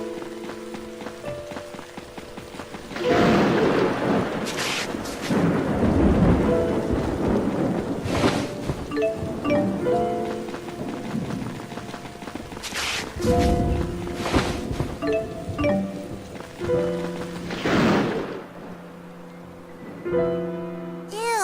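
Thunder rolls and rain pours in a stormy scene from the video game Tales of Xillia 2, with loud rumbling bursts recurring over steady rainfall and layered game music throughout.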